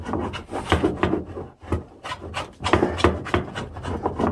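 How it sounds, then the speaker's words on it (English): Wooden board being sanded with 80-grit paper by hand, with rhythmic back-and-forth rasping strokes close up and a brief pause partway through. "And now I'll just keep going at this. And then I'll sand this down again."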